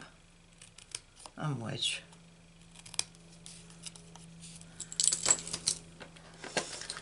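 Scissors snip card stock during a papercraft session, with a few distinct cuts and rustles of paper scattered between quiet stretches, under brief speech.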